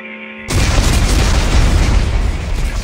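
Explosives detonating in a video game: a steady electronic tone cuts off into one massive blast that rumbles on as a loud, sustained roar.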